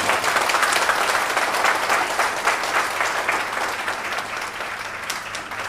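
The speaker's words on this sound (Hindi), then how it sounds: "और अपने लिए जोरदार तालियां एक बार बजा लीजिए।" A seminar audience gives a loud, sustained round of applause that fades slightly toward the end, with no voices over the clapping.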